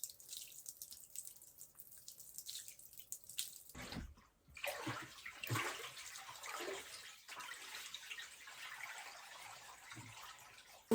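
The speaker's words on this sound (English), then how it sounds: "pour this water down." Water is slowly poured out of a washtub down a drain, a faint trickling and splashing that swells into a steadier gush after a few seconds, recorded close and quiet.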